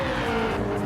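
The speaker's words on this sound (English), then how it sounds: "Someone in a really loud car coming behind here." A loud race car from a racing video game, a BMW Z4 on a Kyoto circuit, roars past with a dense, steady engine drone through the whole short moment.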